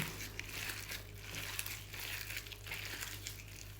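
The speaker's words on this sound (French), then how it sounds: "Et là, je vais bien mélanger et farcir le tout." Spiced stuffing for stuffed peppers being mixed by hand in a bowl, giving soft, repeated squelching and crinkling sounds at close range, fairly quiet, with no talking.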